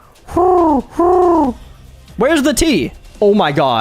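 A person voices an imitation of an owl call, with drawn-out, hooting tones in a strained, screechy register that ends in a rising squawk, alternating with brief speech close to the mic.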